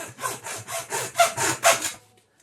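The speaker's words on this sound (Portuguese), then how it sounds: "Está-se a ver que é muito fácil de cortar este tubo." A handsaw cuts through a plastic tube in about seven quick, rhythmic strokes, close and clear, then stops.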